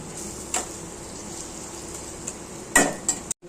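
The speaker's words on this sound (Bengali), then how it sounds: "এখন এটাকে নাড়াচাড়া করে ঢেকে রেখে দেবো" Ash gourd with spices is stirred in a pan, giving a low, steady sizzle with a few clanks of a spoon against the metal near the end, followed by a sudden stop.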